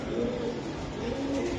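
Pigeons at a pigeon market coo in low, rolling calls that repeat close by against steady background noise.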